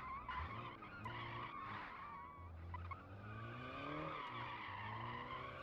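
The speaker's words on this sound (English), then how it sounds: "You can burn rubber with it, that's for sure." A 1950s Soviet limousine built in Automation and driven in BeamNG burns rubber, its tires squealing in long wavering skids over a low engine drone, close and steady for several seconds.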